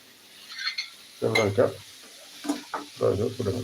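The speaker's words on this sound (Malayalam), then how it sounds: "നമുക്ക് നന്നായിട്ടൊന്ന് മൂപ്പിച്ചെടുക്കാം" Food frying and being stirred in a pan, with soft sizzling and scraping bursts in short uneven clusters, close and moderately loud.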